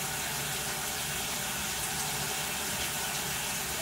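Water runs steadily while filling a pipe in a bathroom, a continuous close rushing hiss with no pauses and no talk.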